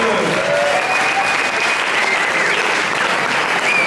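Loud, steady applause from a poetry slam crowd after a poet's scores are announced, dense clapping filling the whole stretch with a few faint whistles over it.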